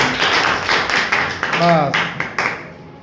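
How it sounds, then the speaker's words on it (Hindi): Children clap their hands in a classroom, a brief burst of sharp claps with a voice talking over them. "तालियां बजाओ बस"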